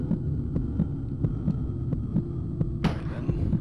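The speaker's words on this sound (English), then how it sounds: "I hear a heartbeat." A steady, muffled heartbeat thumps in a slow, even rhythm over a low hum in a PS1 video game demo, with a brief hiss-like swell near the end and no talking.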